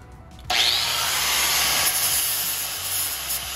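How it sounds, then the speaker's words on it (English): An angle grinder starts up abruptly and runs steadily, whining at a high pitch as it grinds sharp edges flat on a cut car exhaust pipe, loud and close with no talk. "just going to grind all the sharp bits off of it."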